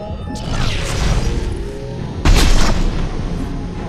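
Weapon fire and explosions in the shooter game Mass Effect 2, with a sustained roar of blasts and then a heavy booming impact midway, loud and close with dense rumbling low end.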